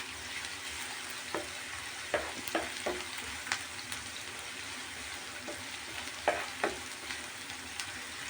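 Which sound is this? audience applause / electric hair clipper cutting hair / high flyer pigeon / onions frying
onions frying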